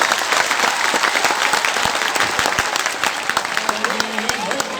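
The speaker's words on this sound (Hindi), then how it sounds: "मैं तमाम मेहमानों से गुजारिश करता हूँ तालियां बजा के उन्हें वेलकम करें" Guests at an annual results ceremony at a school science academy clap loudly and continuously in a close, crisp burst of applause, with voices talking over it.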